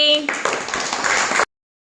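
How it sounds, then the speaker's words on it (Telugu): Young schoolchildren in a classroom give a short burst of clapping for a classmate who answered a subtraction problem, the crowded clapping lasting about a second after a brief voice, then cutting to silence. "క్లాప్ జానుకి."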